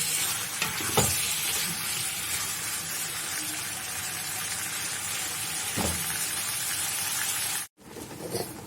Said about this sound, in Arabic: هنقلبها بقى كده في السمنه والحبهان